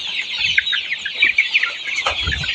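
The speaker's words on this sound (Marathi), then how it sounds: "कोंबड्यासनी आवडते ते बघा, खायला लागल्यात कसं." A flock of chickens clucks busily while pecking at vegetable leaves, with dense, overlapping high calls and soft pecking, close and fairly loud, with no talking.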